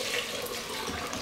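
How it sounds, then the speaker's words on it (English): Steady stream of water pours into a 4-quart crock pot holding steel cut oats, a continuous close splashing rush with no talk over it. "See how much water is going into this crock pot."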